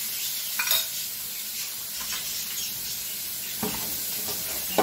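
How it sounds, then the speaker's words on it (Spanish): Vegetables with a bay leaf and garlic cloves sauté in a pan for a plum-sauce salmon dish, a steady soft sizzle with occasional stirring scrapes, close and continuous with no talking. "Vamos a sofreír también esto por aproximadamente 5 minutos, hasta que se ablanden un poquito"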